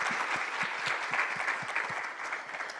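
A conference audience gives the panelists warm, dense applause, a full round of clapping that holds steady throughout.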